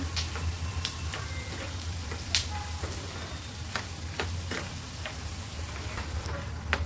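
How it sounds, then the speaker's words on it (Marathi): Peanuts roast in hot oil for puffed rice snack, a continuous close sizzle with scattered sharp pops and crackles throughout, no voices. "तेलामध्ये शेंगदाणे चांगले भाजून घ्यायचे."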